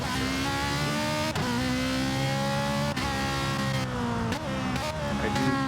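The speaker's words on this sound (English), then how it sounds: "I do apologize for some of the sound of these Ferraris" Ferrari race cars in a Catalunya league race, engines screaming at high revs with sharp gear-shift drops as they leave the pit, loud and continuous.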